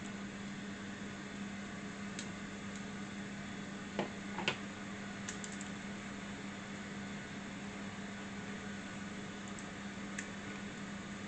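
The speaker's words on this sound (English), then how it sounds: "I'm going to brown the meatballs in the air fryer" An air fryer browning meatballs hums steadily with a constant low drone and fan noise, a couple of faint clicks and taps in the middle, no talking.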